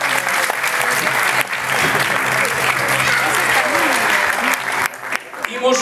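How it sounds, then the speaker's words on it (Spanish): An audience at a live song performance breaks into loud, sustained clapping that stays steady for several seconds before thinning out near the end, with voices mixed into the crowd noise. "Un aplauso"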